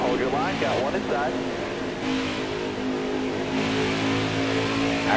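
Racing car engine in a PS4 racing game, revving steadily and loud throughout with rising and falling pitch sweeps near the start, while someone talks over it.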